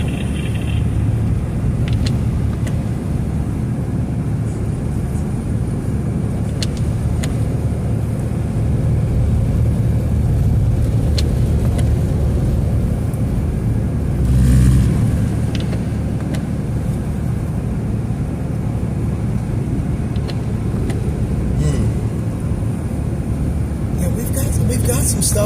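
A car cruises at moderate speed along a snowy road during a Pittsburgh winter storm, giving a steady, loud road and engine rumble throughout, with people talking over it.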